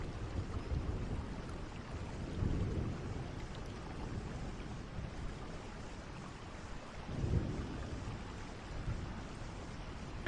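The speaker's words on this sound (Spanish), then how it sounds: "envuelto en esta lluvia que empapa la tierra lentamente" Rain soaks the ground in a steady hiss while low thunder rumbles twice, swelling and fading at a distance, with no voices over it.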